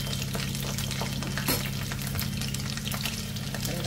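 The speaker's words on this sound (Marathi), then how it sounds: "मस्त फ्राय करून घेते, थोडी फ्लेम मीडियम ठेवते." Chicken lollipops fry in oil over a medium flame, a dense, continuous close sizzle with crackling pops and a faint scrape of stirring, with no voices.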